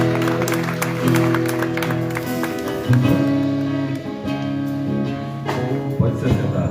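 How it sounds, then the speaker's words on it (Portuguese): Steady applause from a church congregation mixed with music and singing, the clapping continuous and fairly loud throughout. "Aplauda o Senhor bem forte aí"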